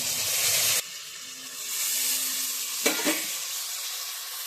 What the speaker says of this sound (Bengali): এখন মাছটা দিয়ে জল দিয়ে দেবো।